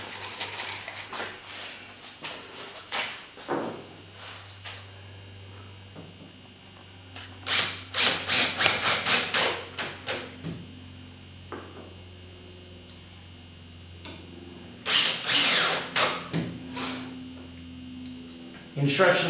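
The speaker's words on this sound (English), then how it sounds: "Now we just put screws in everywhere else." A power driver sets screws into mounts on a wooden acoustic panel, short whirring bursts in quick clusters separated by pauses, close and fairly loud over a faint background hum.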